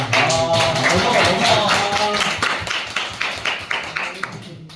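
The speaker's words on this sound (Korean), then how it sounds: "박수 합시다." A small church youth group claps over lively talk and voices, the applause carrying on as the voices fade and leaving distinct, fairly close claps.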